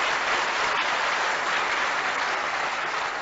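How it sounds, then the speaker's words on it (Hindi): An audience claps loudly and continuously in a memorial hall to welcome guests at a Gandhi Jayanti program in Raipur, a dense, even wash of applause throughout. "मैं आप सबसे गुजारिश करूंगा जोरदार ताली बजा के"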